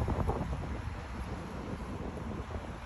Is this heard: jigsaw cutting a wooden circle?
no